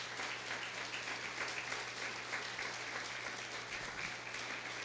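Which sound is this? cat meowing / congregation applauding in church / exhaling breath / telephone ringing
congregation applauding in church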